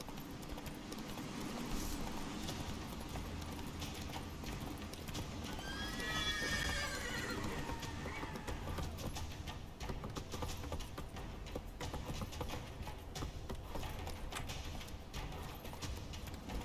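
In The Witcher 3 video game, a horse gallops with continuous rapid hoofbeats, and partway through it lets out a loud, clear neigh over the pounding stride.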